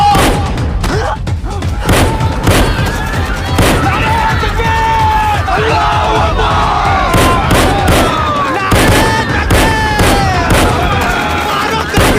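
Bursts of gunfire crack repeatedly through a dramatized attack scene in Pahalgam, loud sharp shots and booms rising over shouting voices and a panicked crowd.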